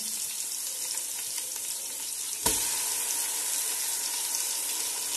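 Chopped onions and garlic sizzle in a little oil for chicken Patiala, a steady close frying hiss that jumps louder midway as more ingredients hit the hot pan, with no talking.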